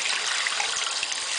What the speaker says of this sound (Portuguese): Depois liga a água.